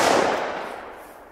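A loud banger firework explodes in a single sharp, booming blast that rings out and fades over about a second, with no talk.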